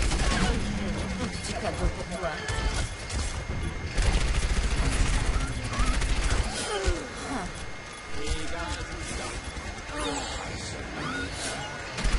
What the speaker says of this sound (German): Da wird auf mich geschossen